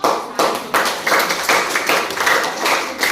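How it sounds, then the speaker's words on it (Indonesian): A classroom group of students gets a short round of applause: quick, sharp hand claps in a few bursts, close and fairly loud, with no talking over them. "kita beri aplaus untuk kelompok"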